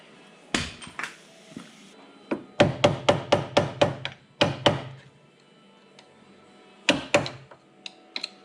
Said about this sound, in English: hammer down the cotter pin, which is just really, really thin and rusty